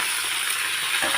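Raw mango pieces drop into a hot pan already sizzling with tomato and green chillies for sambar. A dense, hissing sizzle holds close and even for a brief moment.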